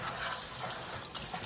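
Steady gushing tap water pours while a dog is wetted down during its bath, a continuous close wash with no voices.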